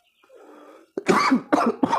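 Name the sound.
cough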